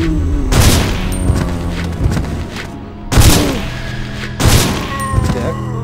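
Gunfire in Resident Evil Survivor 2 Code: Veronica: loud, booming shots sound in separated bursts, roughly three or four heavy blasts with short echoing tails, and no voices over them.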